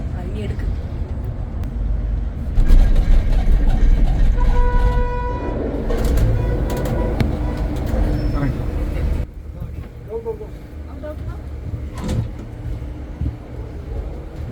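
A tram at the Mother of Georgia station in Tbilisi rumbles loudly and steadily with clanks and brief tonal hoots, while people talk over it.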